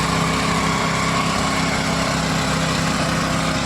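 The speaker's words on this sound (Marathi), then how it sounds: "बघा कसे ट्रॅक्टर चालवतात" Tractor engine running steadily in a field during horse gram farming, a constant close, loud mechanical drone with a fast even throb and no breaks.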